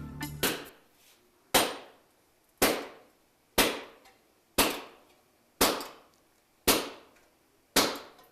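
A metalsmith strikes metal with a hammer in an artist's studio: eight sharp, ringing blows at a slow, uneven pace, each one decaying quickly, with no talking.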